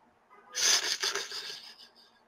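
A raspy, wheezing breath voiced by a person imitating a monster during a tabletop game, one long exhale lasting about two seconds, close and fairly loud.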